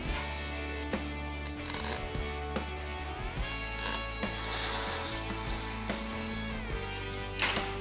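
A hand-cranked bead roller grinds 3/16 round rod into a wheel arch curve, giving off a steady rubbing and scraping metal drone with clicks and creaks from the rollers, heard up close under a low mechanical hum.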